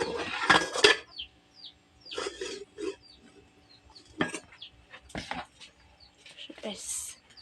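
Chickens cluck and chirp close by in short bursts, mixed with people talking and the clink of dishes and utensils.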